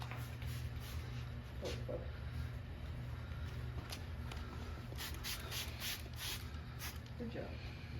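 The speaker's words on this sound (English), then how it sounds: "You can take some 1000 grit or 800 grit sandpaper and wet sand those rough areas out" Someone wet sands the plastic on a Honda 110F motorcycle with 1000 or 800 grit sandpaper, making faint, soft rubbing strokes over a low background hum, with a quiet murmur of voices.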